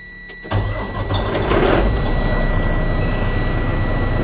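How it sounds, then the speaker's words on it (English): A DD15 diesel truck engine fires after a short crank and settles into a steady, loud, close idle rumble with a constant whine, alone with no talk. "So we're going to start the engine now"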